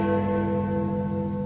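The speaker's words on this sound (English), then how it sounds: "Every time you buy anything in Morrisons and they put it over the scanner," A Morrisons supermarket till scanner lets out a single loud, sustained electronic beep, steady and close for over a second.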